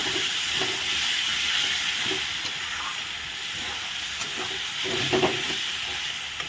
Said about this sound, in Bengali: এখন ভালো করে আমি আবার একটু নেড়ে চেড়ে দিলাম